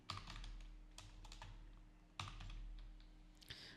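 Keys tap on a computer keyboard while text is entered into a Microsoft Word document, with quiet, sparse keystrokes in small clusters and no talking.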